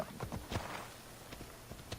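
Horse hooves clopping in the video game Assassin's Creed Odyssey, a series of irregular thuds at moderate distance over a low game background, no talk.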